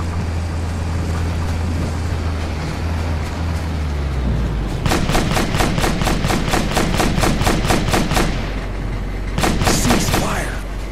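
Rapid bursts of automatic gunfire in Operation Flashpoint: Dragon Rising, a steady rattling volley that starts after a low engine drone, pauses briefly, then resumes in a short final burst.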